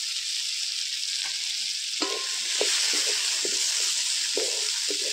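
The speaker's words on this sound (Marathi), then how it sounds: "कांदो आणि मिरची मी भाजून घेतलं. याच्यातच मी टोमॅटो घालतो." Tomatoes, onion and chilli roasting in a pan on a wood-fired stove, a constant bright hiss of sizzling with intermittent spoon scrapes and clinks, close up.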